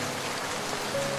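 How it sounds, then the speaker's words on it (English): Heavy rain pours in a dense, even, continuous hiss that stays loud and steady throughout, with no voices over it. "it started to rain like cats and dogs there, muffling the sounds of her crying."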